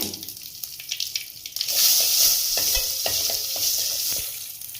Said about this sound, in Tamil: கடுகு கொஞ்சம் சேர்த்துக்கலாங்க கருவேப்பில் ஒரு இனுக்குங்க பெருங்காயத்தூள் கொஞ்சங்க ஒரு வரமிளகாங்க தீ போட்டு நல்லா இந்த கரண்டையில் கலக்கி விடுங்க